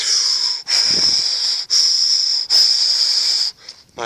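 A person imitates the heavy, wheezing breaths of an unseen creature met at close range in the dark, with four long hissing rasps separated by short catches of breath.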